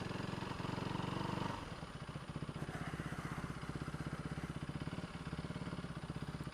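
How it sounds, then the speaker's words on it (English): A 2015 KTM RC390 motorcycle engine idles choppily up close, a steady uneven pulsing putter after a brief higher rev at the start. "The idle is so choppy."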